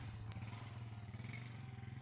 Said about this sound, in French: Je dois prendre ce taxi moto.